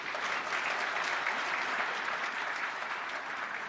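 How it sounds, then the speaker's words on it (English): Sustained audience applause at a national sports awards ceremony for the nominees, a dense, even roar of clapping from a large crowd that holds steady throughout. "Let's give all our nominees a round of applause."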